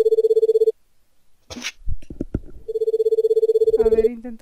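An old-style telephone rings in the RPG horror game Cannon Room, a loud, rapid electronic trill heard twice with a brief voice speaking in the pause between the rings.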